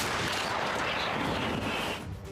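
A heavy, booming roar of cannon fire rolls continuously and loudly, a dense rumbling blast that tapers slightly at the end.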